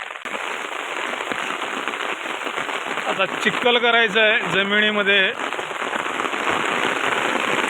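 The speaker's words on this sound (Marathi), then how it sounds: "पाऊस अजून चालूच आहे" Steady rain hissing throughout, with a person speaking over it for a couple of seconds midway.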